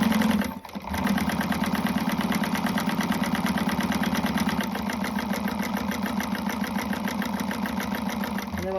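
A sewing machine runs continuously while stitching a seam on a small wristlet, giving a steady, close motor hum with a rapid mechanical beat that pauses briefly near the start.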